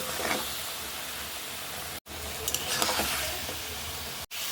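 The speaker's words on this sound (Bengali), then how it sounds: "লাউটা আর একটু কষাচ্ছি।" Bottle gourd stir-fried in a pan, a soft continuous sizzle and hiss with faint stirring scrapes, cut briefly by two abrupt silences.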